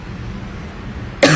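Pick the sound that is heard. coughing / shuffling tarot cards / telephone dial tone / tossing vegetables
coughing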